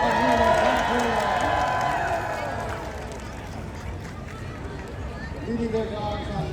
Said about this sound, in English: let's give a big round of applause for the Shiba Inu Fanciers of Northern California